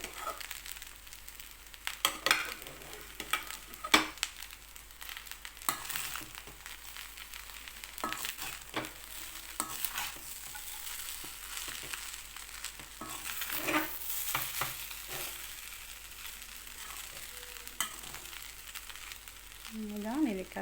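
Large gooseberry rice being stirred in a pan, with soft scraping and light sizzling in an irregular rhythm, faint and close, while a voice talks over it at times.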